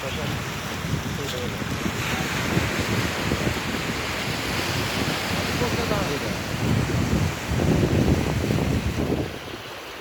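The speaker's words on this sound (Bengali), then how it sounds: "এই যে জোয়ার শুরু হয়ে গেছে, পানি পাড়তে থাকবে" Waves of an incoming tide wash steadily onto the shore, a continuous broad surf roar mixed with wind buffeting the microphone, with voices talking nearby at times.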